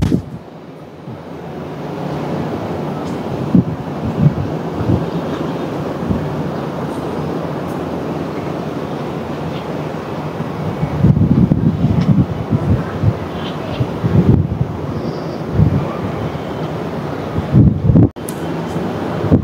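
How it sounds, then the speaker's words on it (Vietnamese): Strong, steady wind gusting along the seashore at Nha Trang, a continuous broadband rush with buffeting surges near the microphone, no speech. "ở ngay cạnh bờ biển, đâm ra gió lộng vù vù ấy, có lẽ là âm thanh của tiếng gió"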